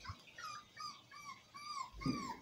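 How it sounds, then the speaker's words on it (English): Small dog whimpering indoors at a house, a run of faint high whines and yips, then a soft low thump near the end. "That stupid dog."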